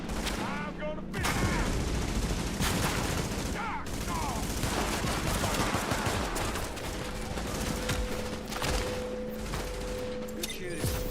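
Video game gunfire rattles in dense, sustained bursts through the whole stretch, loud and close, with brief gaps between volleys and a steady tone humming underneath.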